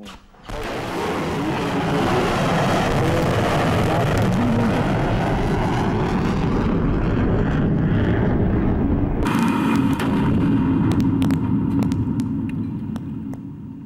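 A BrahMos Block 3 supersonic missile roars at launch in a test, a sustained loud rumbling blast that starts abruptly and holds steady, with a sharper change in tone near the end.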